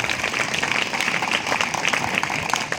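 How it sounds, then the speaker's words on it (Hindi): Audience at a school alumni meet in Bastar, Chhattisgarh claps steadily, a dense, even wash of applause that holds at constant loudness throughout. "जोरदार इनके लिए ताली बजाएं"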